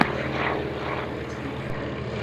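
A Hawker Sea Fury piston-engined fighter at the Duxford Flying Legends airshow gives a loud, steady propeller-engine roar with a rough, throbbing tone that holds throughout.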